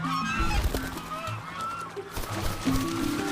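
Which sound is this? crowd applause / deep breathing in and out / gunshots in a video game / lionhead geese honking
lionhead geese honking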